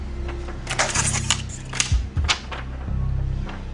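A thin acetate sheet, said to resemble memory metal, crinkles and crackles in sharp bursts as it is crumpled by hand, loud and close, with a few snappy peaks.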